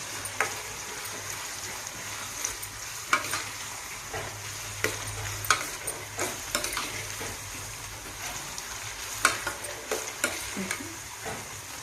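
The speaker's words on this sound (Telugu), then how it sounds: "ఉల్లిపాయలు అయితే బాగా ఇంకా వేగాలండి ఉల్లిపాయలు ఎర్రగా వేగాలి" Sliced onions fry and get stirred in a pan for a soya chunk (meal maker) masala curry, a soft steady sizzle broken by frequent light scrapes and taps of a spoon, with no talking.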